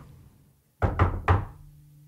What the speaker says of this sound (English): It was no surprise, therefore, when on Monday evening there was a knock at my door.